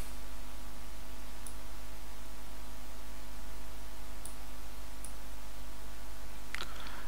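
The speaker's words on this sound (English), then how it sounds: "Let's click on the play button." A few faint, sharp mouse clicks land on an app's play button, spaced unevenly over a steady electrical hum, with no talking.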